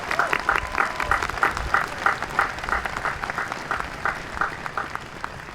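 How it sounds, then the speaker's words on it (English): Audience applause at an Oxford college commencement ceremony, a steady wash of many hands clapping in a large gathering, moderately distant and sustained throughout without pause. "You deserve a well-deserved round of applause."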